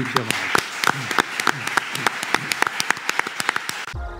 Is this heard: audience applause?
yes